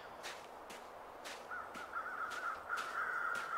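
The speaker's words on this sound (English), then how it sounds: "Birds are kind of creepy. Hopefully you can hear them okay." Crows cawing repeatedly at a moderate distance in the video game The Long Dark, several harsh calls spaced about half a second apart over a faint steady background tone.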